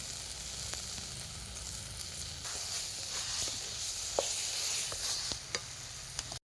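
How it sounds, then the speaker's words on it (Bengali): Masala with cumin powder frying in a pan for Bengali crab curry, giving a steady close sizzle with a few sharp clicks and scrapes of stirring and no voices. "এবার খুব ভালোভাবে মশলাটাকে কষিয়ে নিচ্ছি এবার দিয়ে দিচ্ছি এর মধ্যে জিরে গুঁড়ো"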